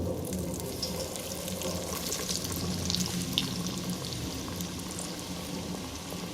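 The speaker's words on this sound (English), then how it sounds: "Okay, so let's begin frying." Dense, continuous sizzling and crackling of panko-breaded chicken tenders frying in hot oil, steady and fairly loud throughout with no talking.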